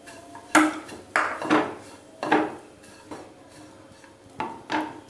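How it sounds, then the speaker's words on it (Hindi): Grated coconut stirred into a pan over a low gas flame while making gur coconut modak: a handful of sharp clinks and scrapes of a utensil against the pan, spaced irregularly, close by, with no talking. "अब इसमें डाल देंगे कद्दूकस किया हुआ नारियल"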